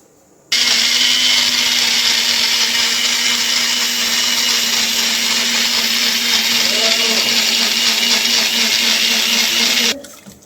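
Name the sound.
electric juicer or blender making beetroot and amla juice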